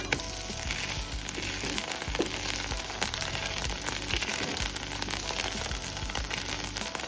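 Dosa batter hisses on a hot pan in a loud, continuous sizzle, bright and crackly throughout with no voices over it.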